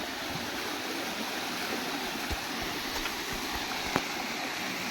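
A waterfall stream at Yogi Yogiani in Nayagarh flows in a steady rushing wash of water, constant and moderately distant, with a few faint knocks and no talking.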